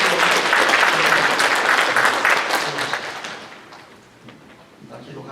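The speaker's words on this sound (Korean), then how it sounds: "네, 박수로 한번 격려하겠습니다." Congregation applauding in a church after a string of choir appointments are read out, a dense, loud burst of many hands clapping that fades off toward the end.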